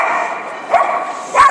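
A dog at a canine show barks with short yips and whimpers, two sharp barks standing out over a whiny tonal background.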